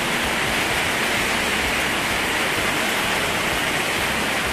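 Heavy rain pours down around a poorly built house, a dense, steady hiss that fills the whole stretch without pause and stays loud and close, with no voices over it.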